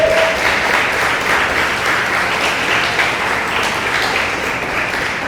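A church congregation claps together in sustained, dense applause that holds steady and loud from start to finish, with no voices rising above it.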